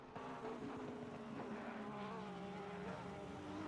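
Several race cars in a sim racing endurance event at the Nürburgring, a McLaren and a Porsche running side by side, produce a steady, loud drone of engine whine with shifting pitch throughout, no talk.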